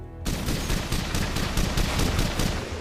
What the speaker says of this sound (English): through the actual garage door comes this blast of powerful gunfire